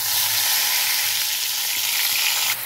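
Spices sizzle in oil left over from frying pomfret fish, giving a bright, steady hiss that stays loud and close, with no speech.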